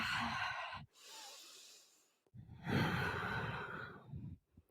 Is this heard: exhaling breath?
yes